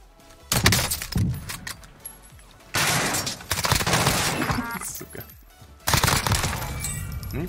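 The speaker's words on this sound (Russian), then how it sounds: "Он даже не сразу понял, что в него выстрелили." Video game gunfire erupts in three loud bursts of rapid shots with crackling, shattering impacts, separated by quieter stretches.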